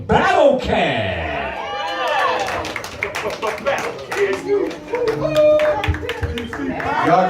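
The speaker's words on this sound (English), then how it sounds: "Y'all give yourselves a round of applause, for real." An audience applauds a DJ at a live event, with sustained clapping and crowd chatter mixed under a speaking voice throughout.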